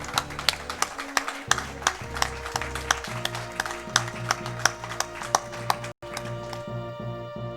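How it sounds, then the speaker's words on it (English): An audience applauds at a speedrunning event, with brisk, slightly uneven clapping from a modest crowd that carries on steadily, then drops out briefly and resumes more thinly. "let's give them a round of applause"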